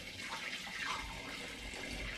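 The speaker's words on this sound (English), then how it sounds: "now I'm going to pour in the cherry and apple" Apple and cherry cider poured through a funnel into a demijohn standing in a sink, a steady continuous gush of liquid at close range with no talking.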